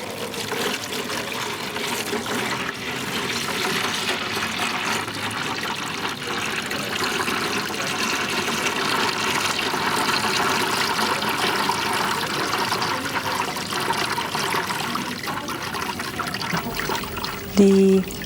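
Steady trickling, pouring water runs continuously as powdered formation aid, a mucilage-like agent for traditional Japanese papermaking, is dispersed into it; a constant moderate wash of liquid with a brief louder splash near the end.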